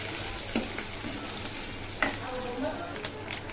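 A pan of tempering spices with asafoetida for Andhra-style gongura dal sizzles and fries steadily, with occasional stirring clinks and scrapes over the continuous crackle.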